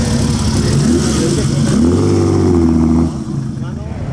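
Ferrari racing cars at the Mille Miglia road event produce a loud, sustained engine roar with rising revs as they pass close by, fading slightly toward the end, with crowd voices underneath.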